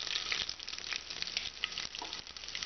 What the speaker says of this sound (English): Now first of all, I will put the cumin seeds. Immediately I will put the coriander seeds.